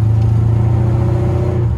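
Idling rumble of an LT1 V8 in a C3 Corvette, given a light touch of throttle, a steady low droning hum that holds evenly and close for under two seconds, no voices.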